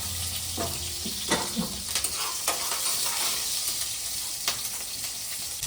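Chillies and onions fry in a pan for a spinach and tomato curry, a soft continuous sizzle broken by a few spoon scrapes and light clinks.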